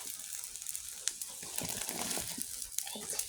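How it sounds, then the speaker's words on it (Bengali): Taro leaves (kochu shak) go into a boiling pot with a faint, close crinkling and rustling, broken by a few soft crackles and splashy ticks. "এবারে ফুটছে দিয়ে দিব কচু শাক"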